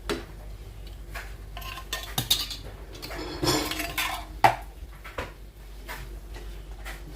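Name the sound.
emptying ackee into a pan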